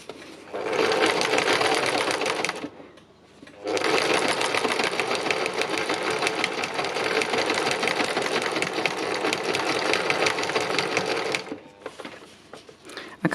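A sewing machine stitches a line across fabric, running steadily and loudly at close range for about three seconds, pausing briefly, then running continuously for another eight seconds before stopping.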